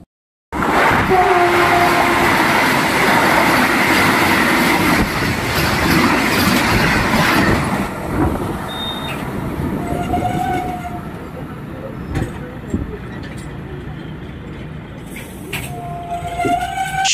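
A local train rumbles along loudly and steadily on the Howrah to Masagram line, with a horn sounding briefly partway through and again near the end, and faint voices underneath.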